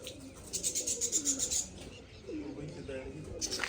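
Pigeons cooing at close range in a home loft, rhythmic throaty pulses repeating in two bursts, with people chatting faintly underneath.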